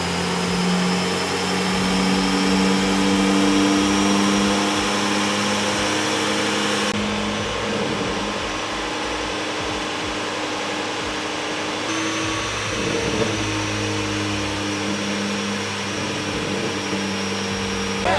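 A 2023 Acura Integra A-Spec runs on a dyno with a flex-fuel ethanol tune. The engine drones steadily and loudly at a constant pitch with a whining tone, and no speech is heard.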